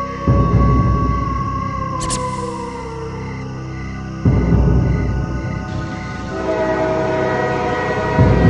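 A long-distance train rushes past at frightening speed, with a loud, sustained horn over heavy rolling rumble and rail clatter that surges, eases, then swells again, played alone as a dramatic sound effect.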